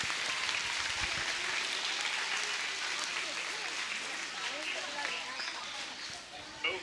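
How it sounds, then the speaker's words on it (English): An audience at a space-themed chat program claps in sustained applause, a dense even patter that gradually thins toward the end, with some talk mixed in. "how about a big round of applause for all the ARIS folks who are working this?"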